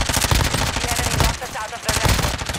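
Video game gunfire in a squad shooter match: loud, rapid automatic bursts close up, dense and continuous with a brief lull midway, without talk.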